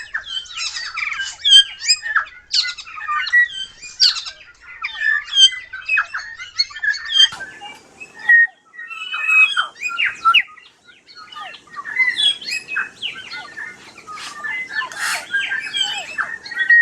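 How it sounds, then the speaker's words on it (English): A dawn chorus of New Zealand birds on Tiritiri Matangi Island, led by tui and bellbirds: dense, overlapping chirps, whistles and squawks, loud and close, with a short lull in the middle before the calls build again. "A dawn chorus is characteristic of New Zealand birds, who have a loud chorus at dawn, and in particular it's characteristic of the tui and the bellbird."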